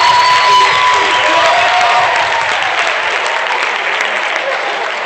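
A crowd at an Africa Day 2017 event applauds loudly with cheers and whoops layered over steady clapping, a dense wash that holds strong and fades only slightly across the few seconds.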